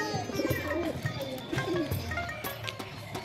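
Pet Giribaz pigeons coo in repeated low, rolling phrases nearby, overlapping one another against a busy, steady background.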